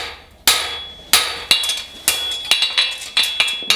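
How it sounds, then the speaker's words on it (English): Hammer striking steel bar stock on an anvil while forging a horseshoe toe bend, with about ten sharp, ringing metallic blows at a quickening, uneven pace, loud and close, each leaving a short bright ring. "I'm just going to drop my hand, overlap that hammer blow, and move the piece underneath my hammer"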